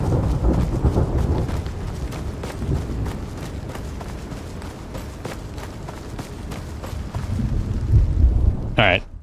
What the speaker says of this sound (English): Please, rain, stop.